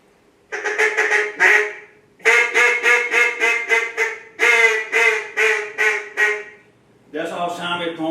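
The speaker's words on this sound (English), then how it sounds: "Now this is a soft call like he would have." Soft duck call blown by a hunter, a run of short nasal quacking notes in three rhythmic bursts, close and fairly loud, with a rougher buzzy honk at the end.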